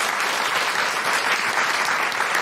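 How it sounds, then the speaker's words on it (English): An audience claps steadily for a drummer at a live celebration show, a dense, sustained round of applause filling the room with no voices over it. "please give me a round of applause for Beck Matthews on drums."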